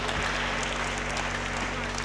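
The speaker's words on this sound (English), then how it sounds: "Clap our hands now." An audience claps hands together at a catfish farming training session, a dense continuous patter of applause filling the room at a steady level.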